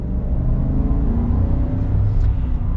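A Chevy Silverado 1500 RST with the 6.2 V8 in sport mode pulls hard, a deep, loud, continuous engine drone and rumble heard from inside the cab, rising slightly as it goes.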